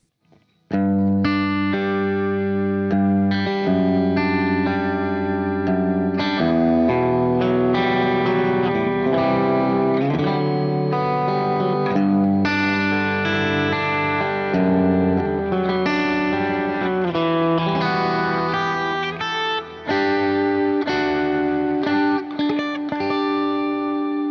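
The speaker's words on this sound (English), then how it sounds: "Kind of a nice big ambient reverb." Sustained electric guitar chords through a Fractal FM3 ring out with a wide, washy ambient reverb tail and no delay, notes blending together steadily and loudly with no talking.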